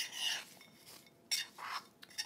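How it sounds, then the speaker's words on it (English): Chow mein noodles are stirred through melted butterscotch in a bowl, making soft scraping and rustling strokes in uneven bursts with a faint clink, close and quiet. "we're going to stir those until they are all coated"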